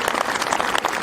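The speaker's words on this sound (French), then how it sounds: "Je vous demande d'applaudir très fort." A crowd at a demonstration for a murdered woman applauds loudly, with dense continuous clapping filling the whole short moment and no clear voices above it.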